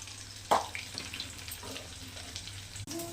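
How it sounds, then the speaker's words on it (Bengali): Soaked basmati rice, rubbed with salt and water, hitting hot oil to puff, giving a soft sizzle with a few brief crackles and a near splash, quiet overall with no talk. "তেল গরম হয়ে গেছে, রাইস কিন্তু এটা অল্প করে দেবো।"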